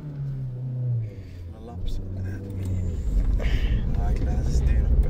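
A Fiat Punto engine runs steadily while the car drives, a low continuous rumble that builds slightly, with people talking over it inside the car.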